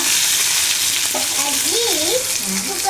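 Onion sautéing in a pan of mustard seeds and cumin, with turmeric being added: steady, close, loud frying hiss throughout, with a voice speaking over it partway through.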